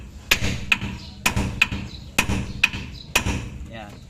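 A hammer strikes the king pin of an Isuzu NHR truck in sharp, ringing metallic blows, about seven hits in uneven pairs, close and loud.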